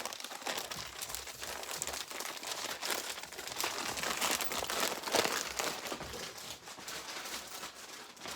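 A plastic shipping bag for an eBay parcel is handled and crinkled up close, with a steady, continuous rustling and crumpling that runs throughout.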